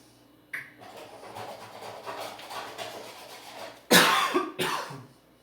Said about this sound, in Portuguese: Desculpem pela tosse,